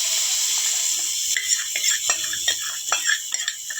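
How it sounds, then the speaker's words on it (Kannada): Masala-coated peanuts roast in a pan over low heat while a spoon stirs them, giving a steady frying sizzle and hiss broken by repeated close scraping clinks against the pan. "ಸೊ ಈಗ ಇದನ್ನು ಸಣ್ಣ ಉರಿನಲ್ಲೇ ರೋಸ್ಟ್ ಆಗೋಕ್ಕೆ ಬಿಟ್ಬಿಡ್ಬೇಕು, ಎಡಿಸ್ಕೊಂಡು."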